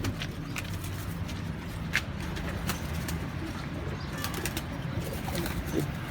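Baby pigeons shuffling and flapping their wings close by, soft fluttering bursts over a steady rustling background with occasional faint clicks.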